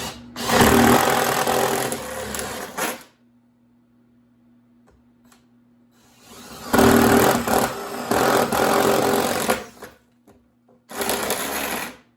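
A power drill bores two 1-inch holes side by side in a wooden swarm trap, loud sustained whirring in three bursts with quiet pauses between, no talking.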